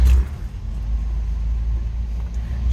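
A 1957 Plymouth Belvedere convertible with push-button transmission, in neutral, starting up: a brief loud burst at the start gives way to a steady, low, rumbling idle close by.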